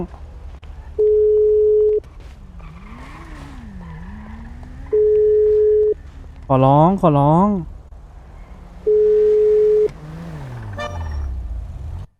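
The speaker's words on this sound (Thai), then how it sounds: "เขาไม่รับพี่เลยว่ะเฮ้ยโทรศัพท์อ่ะ" A phone call rings out unanswered in GTA V, three steady ringback tones of about a second each repeating at even intervals over game noise, with voices talking nearby between them.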